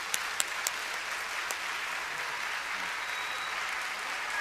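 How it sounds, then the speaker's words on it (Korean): A church congregation welcomes a visiting professor with warm applause, a steady wash of many hands clapping at moderate volume, with a few sharper individual claps standing out at the start. "뜨거운 박수로 환영하십시다."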